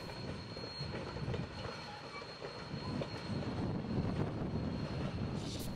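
A steam excursion train on the Sierra Railway rumbles past at a distance heading downgrade, a steady low roar of rolling wheels with faint metallic squeal, fairly quiet and continuous.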